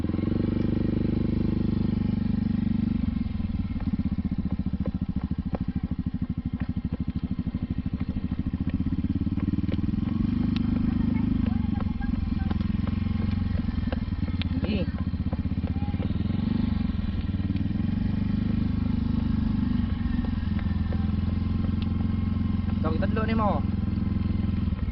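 A scooter ridden on a quiet island road in Cebu, Philippines, hums with a steady, close engine drone and light rattling throughout, with no breaks.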